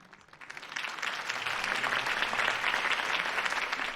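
Crowd applause follows a political campaign speech in Batman: The Telltale Series, a steady wash of clapping that swells within the first second and then holds at a moderate, somewhat distant level with no talking.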